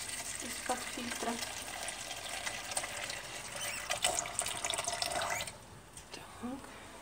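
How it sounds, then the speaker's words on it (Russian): Filtered water poured into pancake batter in a home kitchen, a soft steady trickle with light stirring clinks and a few small knocks, fairly faint and close. "Я, видимо, еще сейчас вот налью водички."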